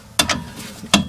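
A new nut is fitted and tightened by hand onto a tie rod end on a Vauxhall Vivaro van, giving a few sharp metallic ratchet-like clicks in quick bursts, close up with no talking.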